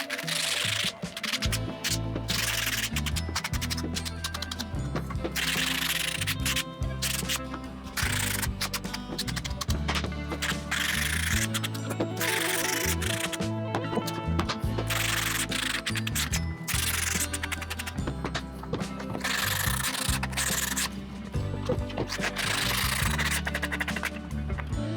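Sanding frayed edges of wood cabinet parts for a first aid kit by hand, a steady close scratchy rubbing in continuous back-and-forth strokes.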